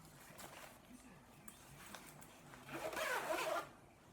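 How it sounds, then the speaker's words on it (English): A Jujube Super Be bag with a Hello Kitty print is zipped closed, giving a quick rasping zipper pull close up after soft handling noises, with a voice talking around it. "I guess you can zip it closed"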